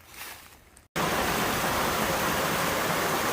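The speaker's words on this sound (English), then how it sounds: "aforementioned waterfall, Comer's Creek, I think" The waterfall at Comer's Creek on the Appalachian Trail pours in a loud, steady rushing roar that cuts in abruptly after a brief quieter moment and continues unbroken.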